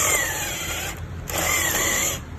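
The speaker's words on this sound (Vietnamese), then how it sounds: "Mình khoan cho các bạn nhé." A steel drill bit bores steadily with a power drill, a continuous whirring grind with brief dips in load, heard up close with no talking.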